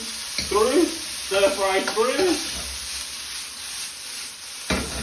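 Vegetables stir-fried in a pan with a little sesame oil sizzle steadily throughout, with a person talking over the first half before the frying continues on its own.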